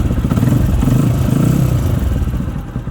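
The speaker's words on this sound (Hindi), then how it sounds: "इसने इजीली हल्के से सेल्फ पे बाइक को स्टार्ट कर दिया।" A motorcycle engine started by its electric self-starter running off a lithium battery, then idling with a loud, steady, clattery mechanical drone throughout, no voices over it.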